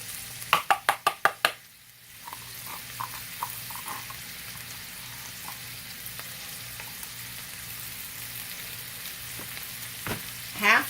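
Browned sausage meat fries in a pan as spinach and garlic go in, giving a soft steady sizzle after a quick run of sharp knocks at the start, with a few scattered clicks and taps over the frying.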